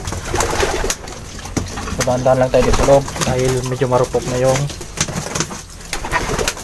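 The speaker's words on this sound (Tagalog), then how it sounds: "So yan na yung mga ibon natin mga kapatid." Young pigeons coo in a coop with soft, repeated throaty pulses, rising in a cluster at mid-clip, while someone talks close by and brief rustling and knocks sound around him.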